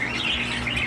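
Pet bird chirping during a training session, steady high thin calls close up against a dense background noise, with no talking.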